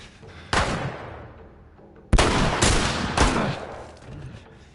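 Enemy gunfire rings out in The Last of Us video game: a single loud shot, then after a pause three more heavy reports in quick succession, each trailing off in a long echoing decay.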